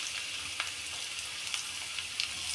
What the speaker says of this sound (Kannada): ಇವಾಗ ಗಾರ್ಲಿಕ್ ಸ್ವಲ್ಪ ಫ್ರೈ ಮಾಡ್ಕೋಬೇಕು.